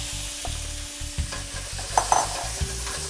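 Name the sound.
shrimp sizzling in a hot pan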